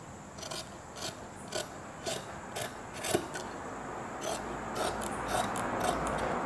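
Scissors cut through several folded layers of fabric for a nightie front neck, heard up close. Regular crisp snips repeat roughly every half second over a steady background hiss.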